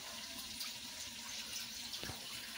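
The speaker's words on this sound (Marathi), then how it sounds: "त्याच्यामध्ये आपण वरती झाकणावरती पाणी टाकायचे आहे" Water splashes steadily onto the lid of a pot of village-style country chicken cooking over a wood-fired stove, a continuous close pour with a brief heavier splash near the end.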